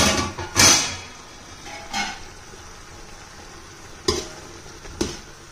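Chicken biryani stirred in a pot gives a few separate scraping and clattering strokes, one early and two more near the end, with quiet pauses between them and no voices.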